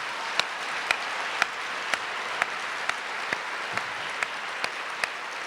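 Audience applause at a plenary session of a community empowerment summit, a steady dense patter of many hands clapping at moderate loudness, with a few sharper individual claps punctuating it and no speech.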